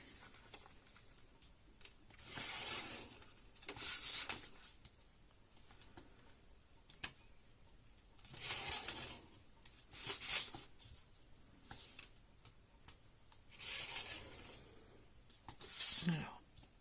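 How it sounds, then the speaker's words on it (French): A pen traces lines along the folds of a paper calendar, producing faint, slow scratching strokes that come in separate bursts a few seconds apart, with a voice speaking softly in between. "il n'y a plus qu'à tracer des traits sur chacun des plis"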